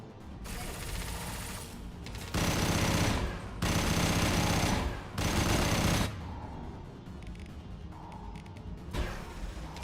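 Rapid automatic gunfire from a fast-firing weapon in the video game Mass Effect 2, with three loud sustained bursts of shots separated by quieter stretches of game ambience.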